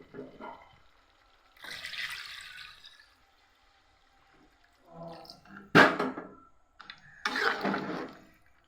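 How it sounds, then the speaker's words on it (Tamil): Water splashes and pours into a cooking pot in several short bursts separated by pauses, with one sharp clatter in the middle. "இப்போ நம்ம தேவையான அளவு தண்ணி போட்டுக்குன்னா சரியாக போகுது"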